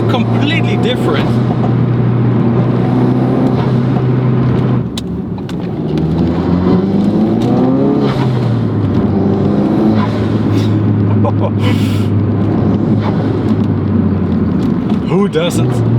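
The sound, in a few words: tuned Ford Focus RS turbo and blow off valve sounds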